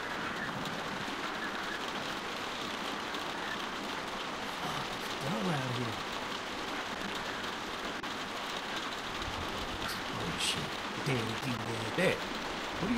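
Steady rain falls outside a barn in The Walking Dead video game, a constant hiss of drops with faint game sounds and a few brief voice fragments rising over it near the end.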